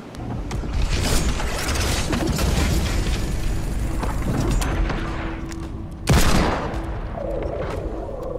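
Hand cannon gunfire in the video game Fortnite booms heavily amid dense, continuous battle noise, with one sharp, loud blast standing out near the end.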